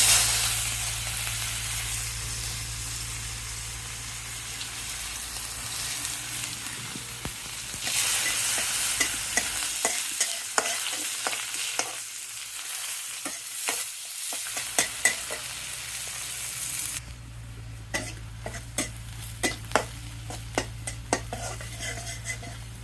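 Onions fry in a pan, first as a strong, steady sizzle and then with a spoon scraping and clinking against the metal, before the frying hiss settles back in.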